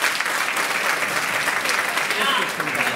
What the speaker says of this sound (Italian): un applauso al signor Giacomo Augello